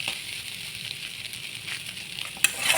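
Egg bhujia sizzles and fries steadily in a pan, with soft scraping of stirring running throughout and a couple of sharper clinks near the end, close and fairly quiet, no voices.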